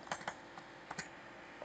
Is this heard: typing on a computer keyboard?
yes